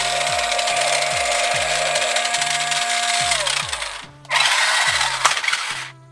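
A Hasbro Ghostbusters Afterlife RTV remote-control toy vehicle whirs with a steady electric motor whine and rhythmic gear chatter as it drives forward, stops briefly, then runs backward again, close by with no talking.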